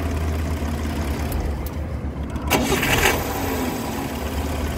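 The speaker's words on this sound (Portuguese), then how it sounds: "Liga na chave. O motor tá filé." A 1960 Volkswagen Beetle with a 1200 engine turns over on the key and catches, a burst of cranking and firing rising over a steady low engine rumble, close and fairly loud.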